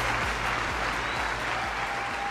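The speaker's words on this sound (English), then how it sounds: "Everybody give Marina Worre a big round of applause" An audience applauds Marina Worre at a live training event, a dense, steady wash of many hands clapping close up and loud, sustained for the whole stretch with no voices over it.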